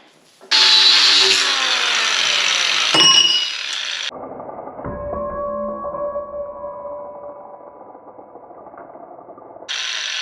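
A portable band saw whines loudly through metal during an LS engine swap on a second-generation 4Runner, then the pitch drops to a lower grinding run before cutting back in; no talking.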